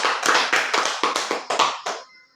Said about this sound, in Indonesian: Mari kita berikan tepuk tangan untuk Pak Dimas.